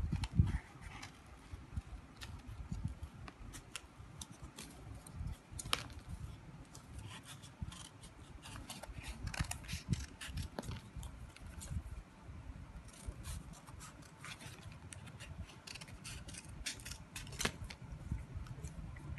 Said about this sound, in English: with the baby scissors